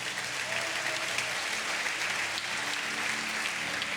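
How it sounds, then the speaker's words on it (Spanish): A church congregation applauds during a sermon, sustained dense clapping that holds steady for several seconds with a faint murmur of voices beneath it. "Alguien tiene que dar un aplauso al Señor por ahí."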